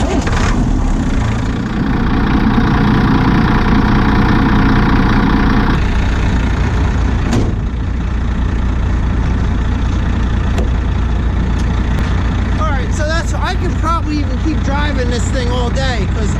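A truck engine with its fan and alternator belts removed cranks, catches, and settles into a steady rumbling idle; voices talk over the running engine near the end.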